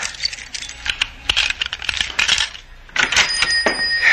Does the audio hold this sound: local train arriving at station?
no